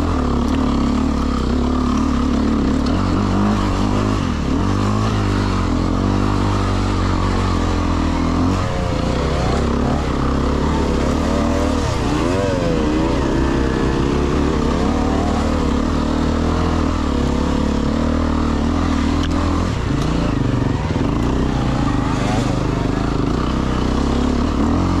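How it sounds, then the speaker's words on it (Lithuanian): A 4-stroke dirt bike engine revs hard and continuously at close range on a mountain enduro trail, its pitch rising and falling as the throttle is worked in second gear, loud throughout. "Tiesiog įsikimbu, antras bėgiukas ir duodu gazą"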